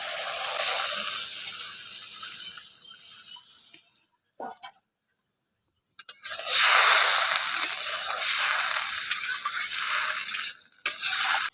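Water poured into a pan of spice masala frying for a koi fish curry brings bursts of loud hissing sizzle, broken by a near-silent gap before the sizzling surges back strongly and then fades.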